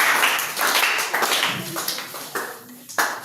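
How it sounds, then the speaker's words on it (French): Stage audience at a young talent showcase in Mbuji-Mayi clapping in uneven bursts, bright close claps that thin out and rise again. "Acclamez très fort pour le jeune talent."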